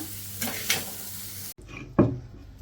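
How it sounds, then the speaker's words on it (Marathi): Masala sizzles softly in a little oil in a pan, with a few scraping stirs of a spoon, a brief pause, then a louder scrape and renewed gentle frying. "थोडंसं तेल घालून याला आपण व्यवस्थित असं खरपूस भाजून घेऊया"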